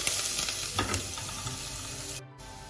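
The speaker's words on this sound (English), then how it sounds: "I'm going to add finely chopped ginger and finely chopped garlic. Let it fry a while." Chopped ginger and garlic fry with curry leaves in hot oil, giving a steady close sizzle with a few stirring clatters and a brief dip near the end.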